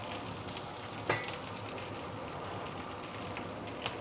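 Fried rice with canned five-spice pork cubes sizzles steadily in a pan while being stirred, a dense, even crackle with a couple of brief scraping knocks near the start and end.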